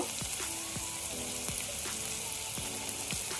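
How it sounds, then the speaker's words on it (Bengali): Onions fry with spices in a pan, giving a steady close sizzle with repeated scraping strokes of a spoon stirring at a regular pace, and no talking. "পেঁয়াজগুলো হালকাভাবে ভেজে নেওয়া হয়ে গেছে"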